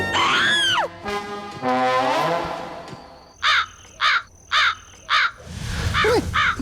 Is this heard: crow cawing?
yes